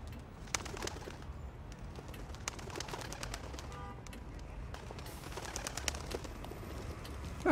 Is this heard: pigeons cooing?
yes